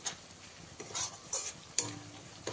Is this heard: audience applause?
no